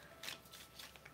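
Tarot cards are shuffled in soft, papery riffling bursts, faint and close, over about a second with a sharper flick at the end.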